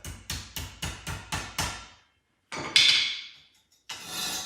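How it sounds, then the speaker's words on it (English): A hammer strikes the end cap of a hoist for a 2020 Jeep Gladiator JT, six quick evenly spaced knocks followed by two heavier, ringing blows, close and loud with no talk. "Got this hammer here, it's a little overkill, but"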